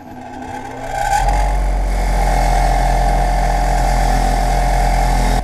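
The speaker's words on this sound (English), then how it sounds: "This gives me a handle now that I can rotate these on the wire wheel," A bench grinder's wire wheel spins up and holds a loud, steady whirring drone while it scrubs rust off snowmobile front suspension bushings, close and continuous with no speech.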